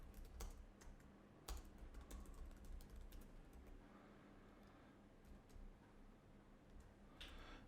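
Credit card details being typed on a computer keyboard, quiet irregular key clicks with a few sharper taps and short pauses, close and alone over faint room hum.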